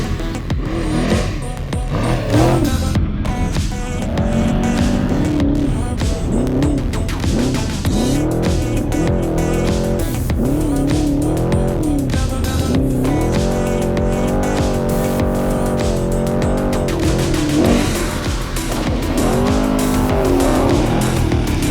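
Off-road race vehicles start the NORRA 500 race, engines roaring loud and continuous throughout, with revving pitch swells and a dense mechanical drone, no talk over it.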